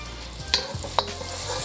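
Butter and oil heating in a hot pan for chicken fried rice, a soft steady sizzle with two sharp clinks of a utensil against the pan.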